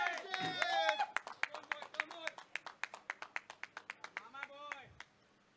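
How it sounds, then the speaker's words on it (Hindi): Hands clap in a steady, quick beat at a tournament's man-of-the-match award, over twenty crisp claps in a row, with a voice speaking just before and after. "तालियां हो जाए यार एक बार जोरदार"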